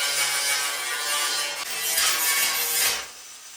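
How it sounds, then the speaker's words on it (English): Steady abrasive grinding of a flap disc against metal edges on a 1961 VW Beetle floor pan, continuous and fairly loud, with a brief dip midway before the harsh rasping resumes and then tapers off. "grab the flap disc, hit all these edges."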